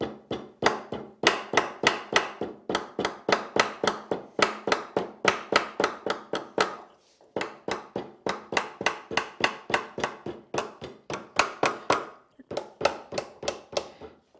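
Sharp hammer blows round the spine of a hand-bound book in an art bookbinding workshop, struck in quick regular bursts of about a dozen strikes with a short pause midway, loud and close with no talk.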